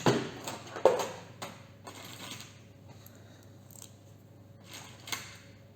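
Scissors cut white yarn during crochet work on baby booties, giving a sharp metallic snip near the start and one or two lighter clicks and rustles after it, all close and quiet.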